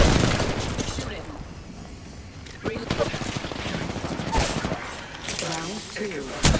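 Rapid bursts of gunfire in the battle royale game Apex Legends, with several sharp automatic volleys cracking out close and loud amid game sounds.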